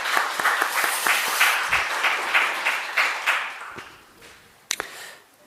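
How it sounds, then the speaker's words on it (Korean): A church congregation at a Thanksgiving Sunday service breaks into applause, a lively crowd of hands clapping that tapers off toward the end, with a couple of sharp knocks at the close. "우리 하나님께 영광의 박수 한번 올려드리겠습니다"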